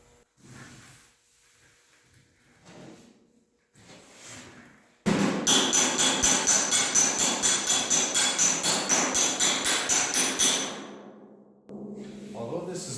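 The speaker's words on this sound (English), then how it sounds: "let's get hammering" A hammer beats sheet metal against a dolly while panels for a hand-built custom hood on a 1940 Ford-inspired car are shaped. A fast, even run of loud ringing metallic blows lasts several seconds, with quieter workshop noises before and after.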